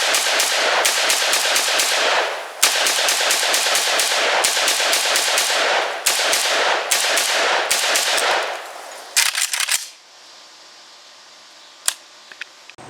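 Close, loud rapid semi-automatic gunfire from an Arsenal SAM5 5.56 milled AK rifle and an SA RPK, shots in quick strings and bursts with brief pauses, ending in a few isolated shots and quiet outdoor ambience.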